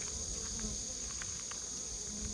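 Hornets buzzing around native honeybee hives, a steady high insect drone with faint intermittent wing hums close by, no talk.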